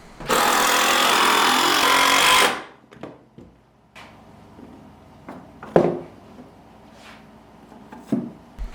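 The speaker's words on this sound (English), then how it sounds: "These are just getting glued and screwed into place." A power driver whirs loudly for a couple of seconds driving screws into wood, then falls quiet, followed by scattered knocks and clatters of wood being handled.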